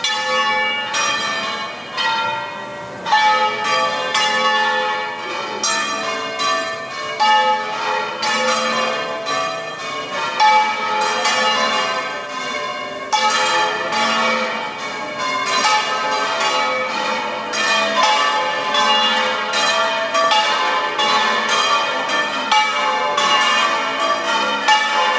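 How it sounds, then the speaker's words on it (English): Church bells of Malaga cathedral peal continuously in the evening, a loud, dense wash of overlapping rings with no talking. "The bells."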